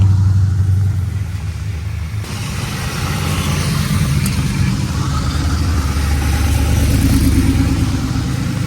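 Race cars pass one after another through stormy, tornado-like rain, a loud steady engine rumble with rising revs and roar close by, no voices over it.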